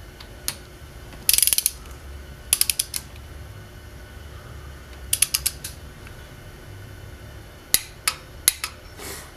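Torque wrench ratcheting in short bursts of quick clicks while tightening Subaru cylinder head bolts in sequence, with sharp isolated clanks between bursts over a quiet workshop background.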